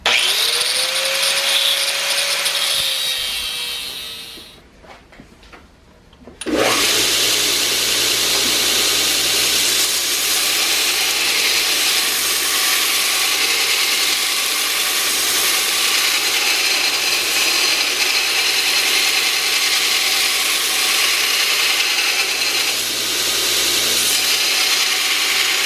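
A knife blade being ground and sanded on a 2x72 belt grinder in a forge shop, a loud steady whine and rasp running nearly continuously after a brief pause and restart near the start.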